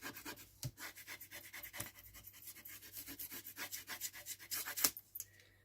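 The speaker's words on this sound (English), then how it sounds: "Then burnish it down carefully so it doesn't move." Paper is burnished down onto a small cardboard tissue box with quick, rhythmic rubbing strokes, soft and close, a series of short scratchy passes with no voices.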